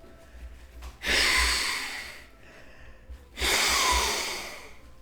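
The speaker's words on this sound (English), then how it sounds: "What if I blow my nose?" Two long, forceful nasal blows, each a broad rushing burst lasting about a second, separated by a short pause; close and fairly loud, no talking.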